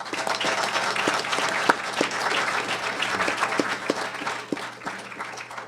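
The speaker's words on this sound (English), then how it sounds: "please give yourselves a round of applause." An audience at an evening gathering gives a round of applause: steady, dense clapping fills the whole stretch with a few sharper claps standing out, loud and close, with no talking over it.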